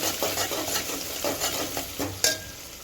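Onions and green chillies are stirred in a hot pan, with rhythmic scraping strokes over a soft sizzle and one sharp metallic clink near the end; no voices.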